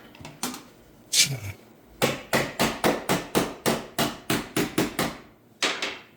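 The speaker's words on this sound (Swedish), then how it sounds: "Man får vara beredd att hamra lite hela tiden." Hammering on the sheet metal of a Skoda while welding a sill, a run of about a dozen sharp, close metallic blows in a fairly steady rhythm, with a few scattered knocks before and a pause near the end.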